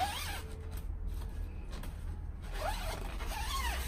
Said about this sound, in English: The bassinet can easily zip in and out.